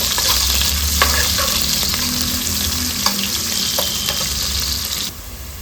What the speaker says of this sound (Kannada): ಅದನ್ನು ಕೂಡ ಸೇರಿಸ್ಕೊಂಡು ಫ್ರೈ ಮಾಡ್ಕೊಳ್ಳೋಣ. ನೀಟಾಗಿ ಫ್ರೈ ಮಾಡ್ಕೋಬೇಕು.